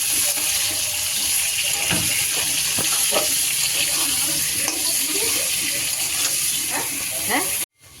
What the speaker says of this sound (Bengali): এই আলুগুলোকে লাল লাল করে ভাজা হবে